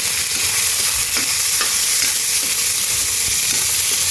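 Chicken breast sizzles steadily in a hot pan while a utensil stirs and scrapes it, producing a dense, close frying hiss with soft intermittent knocks and no talking.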